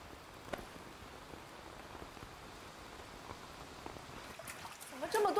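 Soft, steady rain falls outside in a film scene, a faint even patter with a brief louder rustle near the end.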